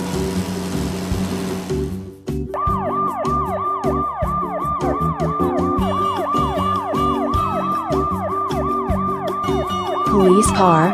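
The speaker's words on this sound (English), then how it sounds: "Police car." A police car siren wails in a repeating rising-and-falling pattern, loud and close, steady for most of the stretch after a brief burst of broadband noise at the start, with a low engine-like drone beneath it.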